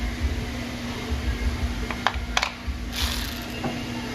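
A ratchet clicking as it snugs bolts on a Honda Accord power steering pump, a short run of close, rapid mechanical clicks over a low steady hum, without talk.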